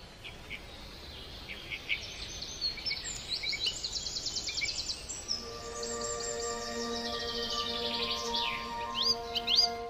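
Birds chirp and sing in short repeated phrases over a steady insect-like hum in a springtime countryside setting, several voices overlapping at moderate distance with no talking.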